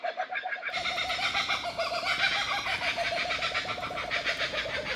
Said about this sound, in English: Check out the kookaburra.